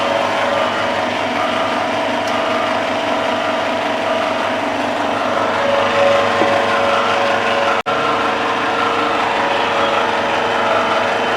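A small compact oil expeller presses groundnut seeds with a steady mechanical grinding and ratcheting drone, continuous and close, with one brief dropout partway through.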